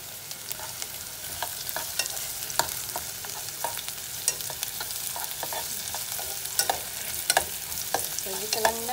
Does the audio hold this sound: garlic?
yes